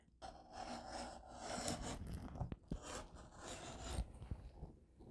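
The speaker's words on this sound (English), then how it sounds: "So first what I do is cut along this bottom edge." A blade cuts a strip of fabric along a ruler, producing soft, uneven scraping and rasping strokes with a few sharp clicks, quiet and close.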